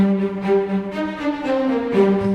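A synthesized string section in Logic Pro X plays sustained, overlapping chords that swell gently, with no voices.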